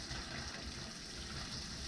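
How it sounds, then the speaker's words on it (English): Water gushing steadily from a household tap once trapped air has been bled from the pipes, a continuous, fairly quiet broadband rush with no voices over it. "Once the air is out, the water will flow freely."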